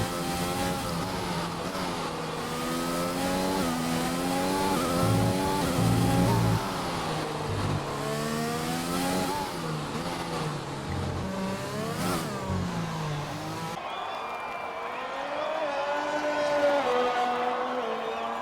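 Race cars on a flying lap in a racing game at a Spanish circuit, engines screaming loud and close, pitch climbing and dropping through repeated gear shifts, with a brief change in tone near the end.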